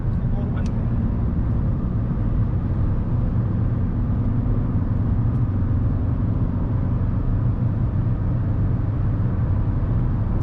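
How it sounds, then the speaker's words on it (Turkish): Steady broadband wind roar inside a 2010-era VW Golf 6 1.4 TSI manual cruising near 120 km/h, loud and constant with engine and road rumble beneath, no pauses. "120'ye yaklaştım. Rüzgar ses soldan gelmeye başladı."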